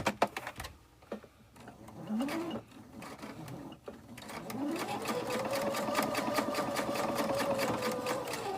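After a few clicks and short starts, a sewing machine chain stitches quilt pieces in a long, steady rhythmic run, heard close up while someone talks over it.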